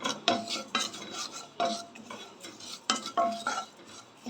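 Fennel seeds dry-roasting in a pan for a biryani masala, stirred with a utensil that scrapes and clinks against the metal in repeated bursts, close and moderately loud with no talking.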